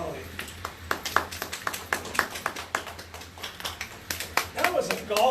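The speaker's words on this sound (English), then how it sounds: "That was a golf clap" Light, scattered polite clapping from a seminar audience, a sparse golf clap of separate claps at an uneven rhythm, with voices murmuring underneath.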